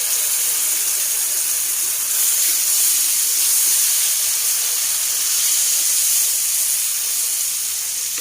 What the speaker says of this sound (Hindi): अब मैं टमाटर डालती हूँ इसमें